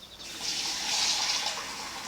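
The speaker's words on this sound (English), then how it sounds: "I'll put another cup of water in it now" Water from a jug is poured into a pan of lentil and kumara curry, a short continuous splashing gush that swells and then eases off.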